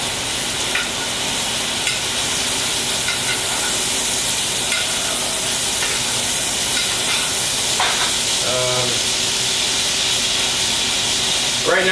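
New York strip steaks sizzle and fry steadily in a hot pan while fat is spooned over them, a dense continuous hiss with occasional spatters and a brief clink of the spoon.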